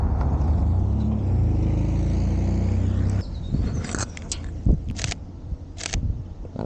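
A truck rumbles steadily past on a rural road, loud at first, then cuts off abruptly, leaving a quiet scene broken by a few sharp camera-shutter clicks.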